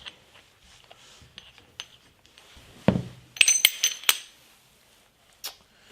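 A screwdriver tip wrapped in a clean rag scrapes and clinks inside a disassembled YZ250 rear shock, giving sharp metallic taps and rattles close by, clustered in the middle with softer scraping around them.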